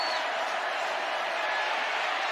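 A stadium crowd roars steadily at Scott Stadium during a college football game, a dense, continuous wall of cheering that holds at full level throughout with no individual voices standing out.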